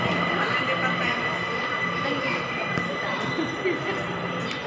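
Steady rumble and rattle of an MRT metro train in Manila heading to Cubao, riding along the rails, with a continuous broadband roar and occasional squeaks, voices faintly mixed in.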